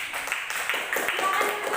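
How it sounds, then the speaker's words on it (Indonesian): A classroom of students applauds in a short burst of scattered clapping, with faint voices mixed in. "Beri tepuk tangan untuk Susi"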